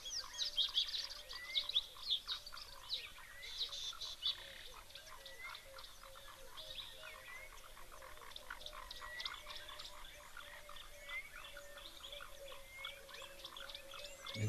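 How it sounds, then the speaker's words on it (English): A dense chorus of foam nest frogs croaking around a waterhole, with many overlapping clicks and rattling calls throughout and a few faint bird notes mixed in the background. "They do sound like foam nest frogs in the background."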